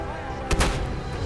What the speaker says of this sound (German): Die Piper knallt mir alles weg.